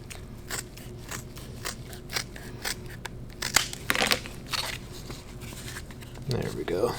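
Trimming a Kydex and leather knife sheath, a series of crisp snipping and crunching cuts at an uneven pace, close by, with some scraping and handling noise.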